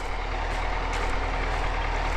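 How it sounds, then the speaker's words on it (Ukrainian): A tractor idles in a valley before crop spraying, a steady low diesel clatter with a constant rhythmic throb, loud and continuous throughout with no talk. "Ось трактор в долині вже е, стоїть, калатає"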